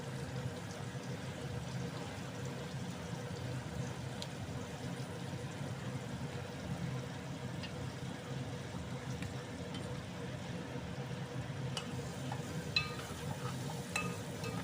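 Amaranth leaves and chana dal curry are stirred in a pan, giving a steady, soft hiss with faint utensil scrapes and clicks throughout, fairly quiet and continuous.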